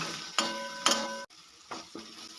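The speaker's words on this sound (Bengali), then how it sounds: "এবারে সমস্ত মশলাগুলো সব একসঙ্গে কষিয়ে নেব" Spices with kasuri methi stir-fried in a pan, heard as a few sharp metallic spoon scrapes and clinks against the pan over a faint sizzle, with short pauses between strokes.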